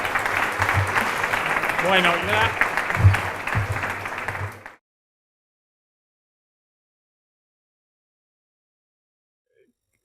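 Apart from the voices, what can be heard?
applause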